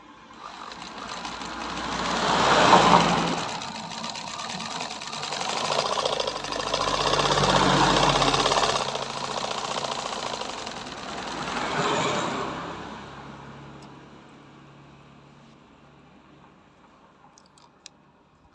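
Black-head sewing machine stitching ordinary fabric, a fast whirring mechanical chatter in several bursts of a few seconds each, rising and easing off, then stopping with a couple of faint clicks.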